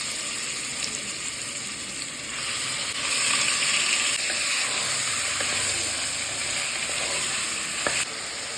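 Half a kilo of mutton chops fries in hot oil in a pan with spices, giving a steady close sizzle with stirring scrapes over it throughout.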